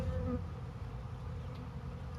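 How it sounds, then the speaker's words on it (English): Honey bees buzz softly around their hive, a faint continuous droning hum that holds steady throughout. "I come out here and water these bees"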